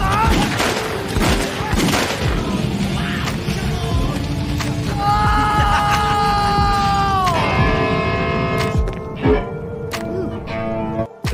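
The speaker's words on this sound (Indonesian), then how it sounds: "Kapten muncul bersama Toshi yang dijadikan sebagai tameng untuk menghadang tembakan peluru." Gunfire in a battle scene from the zombie film Wild Zero, dense and continuous bursts mixed with a loud soundtrack, including sustained tonal sounds, throughout.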